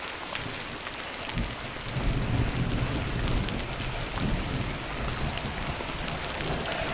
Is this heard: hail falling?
yes